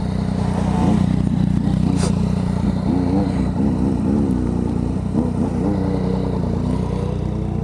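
A Yamaha MT-09 motorcycle runs close and steady, its engine rumbling and revving throughout with a little clatter and no talk.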